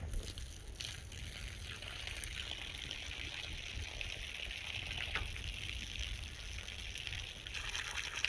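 Steady running water trickles and splashes continuously at close range, a constant broadband wash with no voices.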